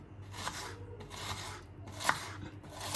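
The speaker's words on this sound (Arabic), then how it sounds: "نبدأ نقطع البصل بتاعنا" Onion being chopped into small slices with a knife for Sudanese lentil fatta: a steady series of soft, crisp cuts roughly every second, close and fairly quiet, with a couple of sharper knocks near the end.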